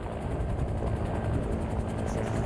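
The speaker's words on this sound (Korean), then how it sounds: "조종사들의 일부나 마찬가지인 코브라 헬기." Cobra attack helicopter at a Korean military gunnery competition, heard as a steady, loud rotor and turbine roar with a faint rapid blade pulse, continuous and close throughout with no talking.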